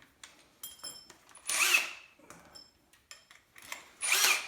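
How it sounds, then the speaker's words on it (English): A power drill bores through scrap wood while building an archery target stand. The drill whines in two strong bursts between shorter motor starts and stops, with a grinding, chewing edge as the bit cuts the wood. "just put another piece of scrap wood under there and drill all the way through"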